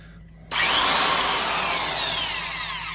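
A powerful Milwaukee single-speed Hole Hawg 1/2-inch stud and joist drill starts abruptly after a brief pause and runs steadily at a high, whining pitch.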